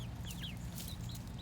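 Bielefelder chickens give soft, quiet clucks and a few short chirpy calls close by, a brief low-level patch of farmyard fowl sounds without talk.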